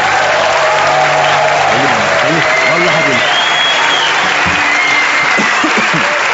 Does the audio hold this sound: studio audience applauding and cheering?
yes